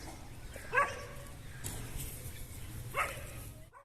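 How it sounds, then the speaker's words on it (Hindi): Dogs bark twice at a distance, two separate short barks over a steady outdoor background hum. "ये जो कुत्ते हैं ना, ये जो आते हैं ना कागज वगैरह उठाने, इनको देख के बड़ा भौंकते हैं"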